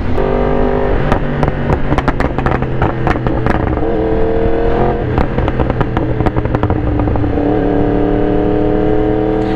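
A Yamaha R1 sport motorcycle rides through town traffic, its engine droning loud and close with rising and falling revs and shifts, mechanical clatter and wind under it, no voices.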